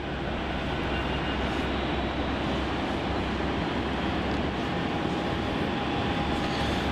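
Jetstar airliner JQ434 taxiing toward the runway at Melbourne Airport, a steady, distant engine rumble and roar throughout, no talk.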